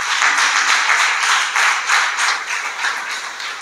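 A church congregation claps in praise during a worship service, a steady, dense wash of many hands that holds loud through the moment and eases a little toward the end.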